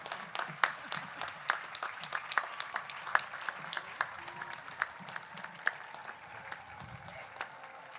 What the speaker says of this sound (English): Please join me in a round of applause for Mrs. Peggy Pop Murphy's constant support